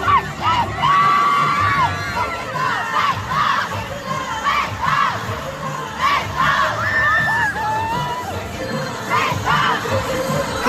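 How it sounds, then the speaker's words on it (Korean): A large concert crowd of fans screams and shrieks continuously in a big arena, loud high-pitched cheering and whoops layered throughout with no break. "팬들의 반응은 거의 비명에 가까웠습니다"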